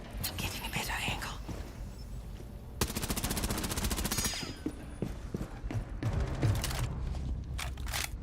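Gunfire shot through a wall in a first-person video game: two bursts of rapid shots, the first longer and the second shorter, over quiet, whispery voices talking throughout.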